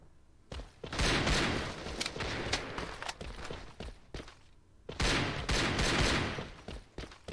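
Bursts of rapid automatic gunfire and single shots from the first-person shooter Alliance of Valiant Arms crackle in repeated volleys during a competitive esports grand final match, with brief pauses between the strings of fire.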